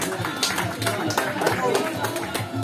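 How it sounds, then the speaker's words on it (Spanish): Scattered clapping from a crowd of spectators at a festival parade for the queens during a food festival, mixed with crowd chatter and a voice talking over it, fairly close and moderately loud. "A ver que se escuche ese aplauso"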